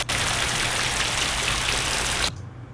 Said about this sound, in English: Here's rain loud.